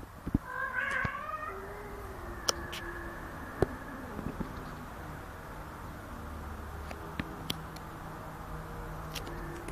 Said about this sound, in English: this little cat on top here, Fatin, has been really horny for a very, ve